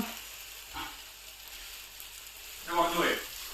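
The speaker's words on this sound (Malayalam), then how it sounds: "സവോള ഇങ്ങനെ ഒരു പകുതി വഴണ്ട സ്റ്റേജ് ആയിട്ടുണ്ട്" Sliced onions sauté gently in a pan for an egg puff filling, a soft continuous sizzle with a louder burst of frying and stirring near the end, close by.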